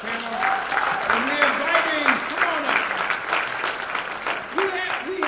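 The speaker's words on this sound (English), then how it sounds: "let's give a round of applause for our first panel" Conference attendees applaud a first panel at a veterans braintrust event, with steady clapping running throughout while a voice speaks and sings over it.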